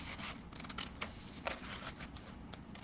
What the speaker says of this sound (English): Just carefully and slowly cut along with scissors.